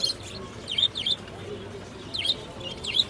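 Budgerigars chirp in quick, high bursts, a few sharp twittering calls in clusters over a soft background at the Mirpur-1 bird market.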